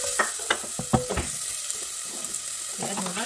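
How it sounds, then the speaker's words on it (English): Onion sizzles in butter in a pan, a soft steady fry under a few quick knocks and scrapes from a spoon in the first second, then quieter, even sizzling. "when you're sauteing the onion, you make sure that the onion is like caramelized to get the aroma"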